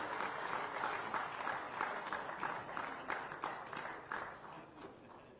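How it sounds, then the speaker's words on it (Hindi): Audience at a security leadership summit awards ceremony applauding an award winner, with sustained clapping that is moderately loud and carries a few sharper individual claps before it gradually thins toward the end. "जोरदार तालियां होता है इनके लिए."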